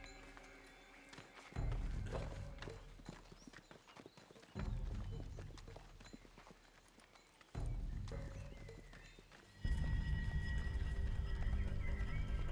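Horses neighing while their hooves clip-clop, in a period war drama set on a border against Japanese forces; loud hoof bursts arrive in several heavy swells, with no speech.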